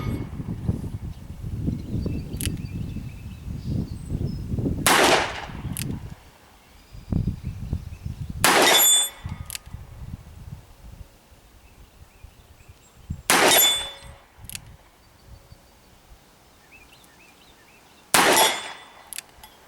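Four sharp metallic gong rings from .357 Magnum rounds fired single action from a Smith & Wesson 686 Plus revolver striking a steel gong about 40 to 50 yards away, each bright clang decaying over a second, spaced several seconds apart outdoors.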